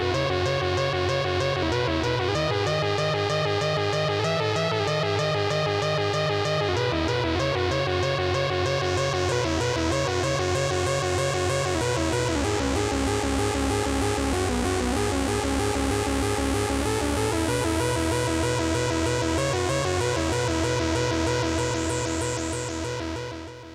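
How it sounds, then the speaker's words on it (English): Stylophone synthesizer with its LFO modulating the tone into a rhythmic, almost arpeggiated pulse, playing loud and continuous with a buzzy, distorted timbre, shifting pitches steadily over the whole stretch with no talk. "What you're hearing is the Stylophone, and I'm using the LFO to create this rhythmic, almost arpeggiated type sound."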